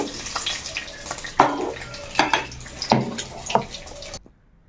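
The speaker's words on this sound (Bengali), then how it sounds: "এখন এর মধ্যে কিছুক্ষণের জন্য ডুবিয়ে ডুবিয়ে রাখবো সবগুলো পনির" Fried paneer pieces are dipped into hot salted water, giving a series of close sloshes and splashes at a steady pace before it falls silent.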